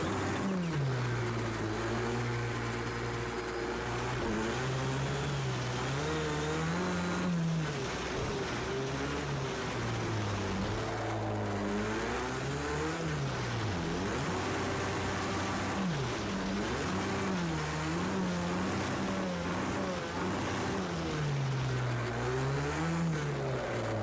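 Race car engine in Project Cars 2 drifting through a corner, its loud, steady note rising and falling with revs and gear changes, continuous and close throughout with no talking.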